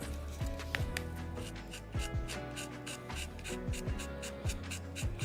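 Close, continuous rubbing and scratchy strokes from bendy sanding tools on a 3D-printed part, in a loose rhythm, with small knocks and squeaks between passes.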